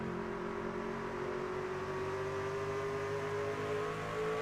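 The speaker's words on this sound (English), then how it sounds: "You can hear him roll out of the throttle very early." Onboard a Toyota race truck at Richmond, the engine drones steadily as the driver rolls off the throttle into turn 1, a continuous humming whine that slowly shifts pitch and dominates without any talking.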